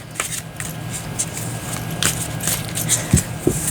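Tarot cards being shuffled by hand during a card reading, soft papery riffles and brief flicks close to the microphone, quiet and intermittent with a few sharper snaps.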